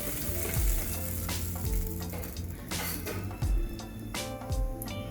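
Oil heats in a pan for bhindi masala, giving a dense, continuous sizzle with sharp crackles and scattered pops, fairly close, with no speech.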